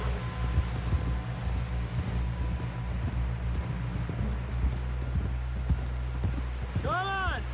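Rhythmic hoofbeats of a horse galloping in Red Dead Redemption 2 run through the whole stretch over steady engine-like rumble, with a brief horse whinny near the end.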